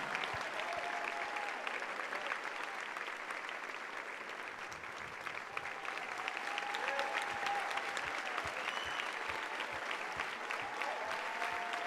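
A church congregation applauds steadily and fairly faintly, a dense patter of many hands clapping throughout with a faint voice now and then.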